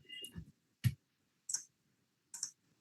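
A computer mouse clicks four times, sharp and quiet, spaced at uneven intervals with near silence between them.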